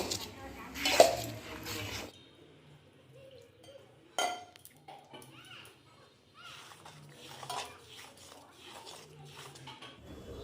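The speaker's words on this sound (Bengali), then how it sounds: "একটু একটু করে জল দেবেন আর এইভাবে একটু একটু করে মেশাতে থাকবেন" Pithe batter of semolina and jaggery mixed by hand with water added little by little, soft squishy stirring and occasional clinks of a bowl, with a louder burst of handling near the start and quieter mixing afterward.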